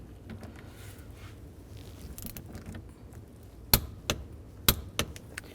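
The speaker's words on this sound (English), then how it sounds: "Now I'm going to torque this nut to 29 foot-pounds." A torque wrench tightening a steering wheel nut on a 2003-07 GMC Yukon, with faint mechanical fiddling followed by several sharp, close metallic clicks in quick succession.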